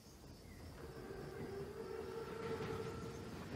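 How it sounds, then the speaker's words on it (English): An armored Panzerzug train approaches in the Call of Duty WWII video game, a steady low rumble of rolling wagons that swells slowly louder, with a faint mechanical whine on top. "Train's right on time. Biggest train I've ever seen."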